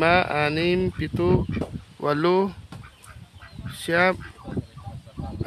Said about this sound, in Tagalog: Ito yung bibe.